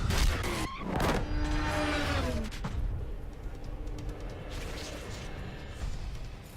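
Racing cars in Need For Speed The Run roar past with rising and falling engine pitch, tire skids and a sharp impact near the start, then settle into a steadier engine drone.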